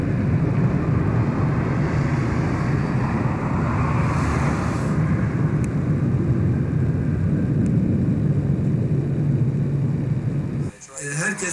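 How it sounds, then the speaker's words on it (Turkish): Military jet engines roar in a deep, sustained rumble from a distance as aircraft take off during the 1991 Gulf War, steady and heavy, ending with a brief buffeting noise near the close. "aşağı yukarı 16 tane uçak kalktı gibi"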